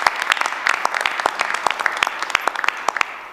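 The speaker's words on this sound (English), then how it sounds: "let's give our students another round of applause." Applause for students at a school board meeting, a modest group clapping steadily and briskly for a few seconds with no talk over it.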